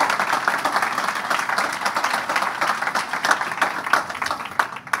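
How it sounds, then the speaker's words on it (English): Round of applause from a press conference audience for a new head coach of a women's basketball team, a steady dense patter of many hands clapping for several seconds with no voices over it. "how about a round of applause for everything that went into setting up today?"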